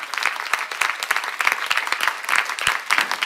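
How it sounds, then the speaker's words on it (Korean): A church congregation claps in sustained applause at a Korean seminar, dense and fairly close, with no talk over it. "박수 쳐봐"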